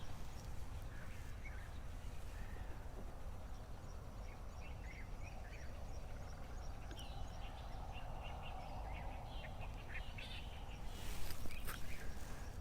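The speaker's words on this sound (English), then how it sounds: "Do you hear the crows and many other birds?" Birds call faintly at dawn by the Sea of Galilee, scattered chirps and calls spread through a quiet outdoor background, growing a little busier and louder toward the end, with no talk.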